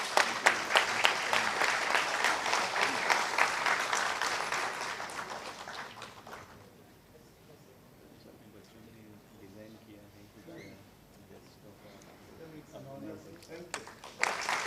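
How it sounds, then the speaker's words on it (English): Conference audience applauding at a metrology conclave, loud sustained clapping for about six seconds that then drops away to a quieter room with low murmuring. "Can we have a huge round of applause?"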